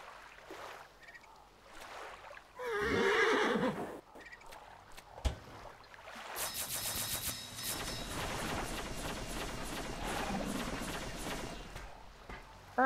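A horse neighs loudly in the Dinosaurland video game, one clear whinny in the open, then splashy flowing water and scattered game noises follow, with no talking.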